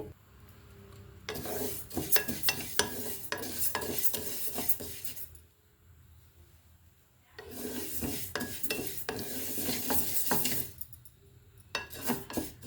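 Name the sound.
moong dal frying in a pan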